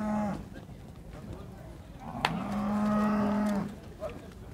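Cattle low loudly at a livestock fair in Cachoeirinha, Pernambuco, one long sustained moo near the end over crowd murmur and trader chatter.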